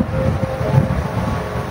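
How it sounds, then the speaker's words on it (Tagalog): Strong storm wind roars and buffets the microphone near the water, a continuous loud rushing gust with low rumbling turbulence, no voices heard. "Ang lakas ng hangin."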